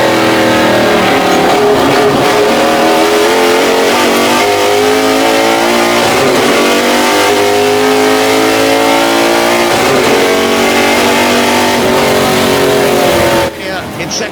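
Race cars including a Rover and a Boss 302 Mustang accelerating at Goodwood, loud continuous engine roar with rising and falling revs through gear changes, a commentator talking over it.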